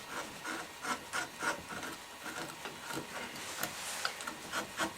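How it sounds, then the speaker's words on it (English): A hand tool takes light shaving strokes across wood while carving a wood spirit face, making soft, rhythmic scraping rasps repeated steadily, close and fairly quiet, with no talking. "I'm just shaving away, light shave"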